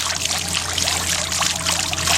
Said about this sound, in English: Put some water over it to make sure that the flow is what we want.